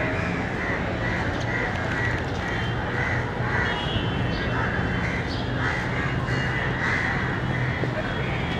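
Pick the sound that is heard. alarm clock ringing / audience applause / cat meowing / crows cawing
crows cawing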